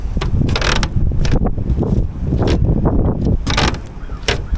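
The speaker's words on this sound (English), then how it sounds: "I have to get some supports welded onto the back of here to keep it from flexing and creaking" Storage compartment lid on a G3 Gator Tough 20CCJ aluminum boat flexing and creaking, with repeated close, loud creaks and knocks under steady wind noise.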